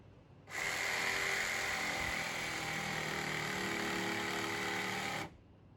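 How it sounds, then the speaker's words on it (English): A jigsaw cuts steadily through a fire pit ring held on a jig, with a loud buzzing drone running about five seconds, close up, starting and stopping abruptly. "I'm going to cut with the jigsaw on the jig"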